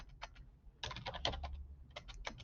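Fast typing on a computer keyboard: close, crisp clattering keystrokes in quick bursts, a short run, a pause, then a longer rapid flurry and more bursts, with no talking.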